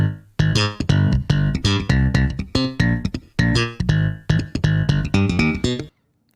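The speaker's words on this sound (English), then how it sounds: "I might be able to find a bass line and it sounds like this" A bass line loop built in GarageBand plays alone: a string of punchy, plucked low notes in a steady repeating pattern, repeating twice over and then stopping abruptly into silence.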